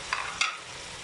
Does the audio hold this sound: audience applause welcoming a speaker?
no